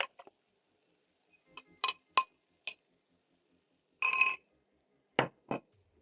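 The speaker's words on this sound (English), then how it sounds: "So I'm going to transfer my eggs into the pan." Eggs being transferred into a cooking pan: a handful of sharp, bright clinks and taps spaced out over a quiet background, with one longer scraping rattle in the middle.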